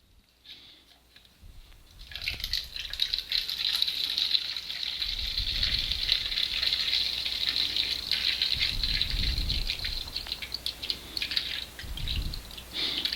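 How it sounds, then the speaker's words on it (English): Cleaning solution pours into a 12-ounce contact lens bottle, a steady close-up gushing, gurgling stream of liquid that starts after a brief quiet moment and runs continuously to the end, with low thumps from handling the bottle. "what I'm going to do is pour this solution"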